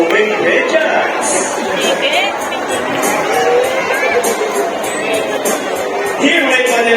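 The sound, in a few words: audience applause at Manila Ocean Park bird show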